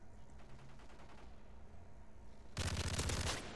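Automatic gunfire in Call of Duty: Modern Warfare 3 on Xbox, with steady rapid bursts in the background that turn into a loud, dense volley near the end.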